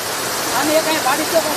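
Water rushes steadily from an overflowing dam, a loud continuous roar close by, with a voice talking briefly over it.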